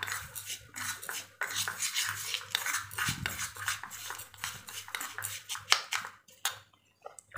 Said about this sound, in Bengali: আমি চামচ দিয়ে ভালোভাবে মশলা উপকরণটা মিক্স করে নেব।